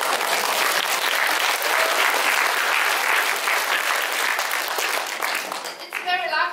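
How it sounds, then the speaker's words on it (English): Audience applause for a teacher at a Christmas singing event, a loud, sustained burst of many hands clapping that fades near the end as a voice begins to speak. "So yeah, we give anyway, give a big clap."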